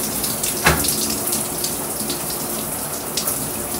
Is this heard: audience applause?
no